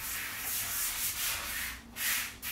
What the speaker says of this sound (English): So sanding sponge.